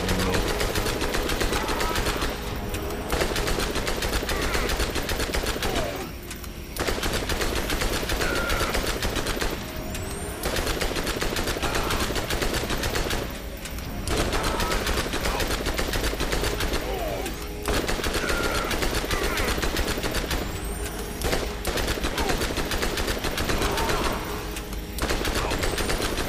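Rapid automatic gunfire in the video game Borderlands during the General Knoxx boss fight, dense bursts of shots with short gaps every few seconds, loud and continuous, no talking.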